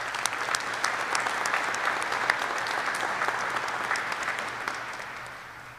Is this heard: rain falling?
no